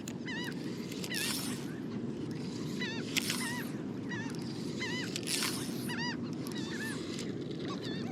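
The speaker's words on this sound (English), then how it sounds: "once these birds get quiet" Gooselike birds honk in repeated short calls near flat saltwater, moderately distant over a steady wash of water and wind, with no talk.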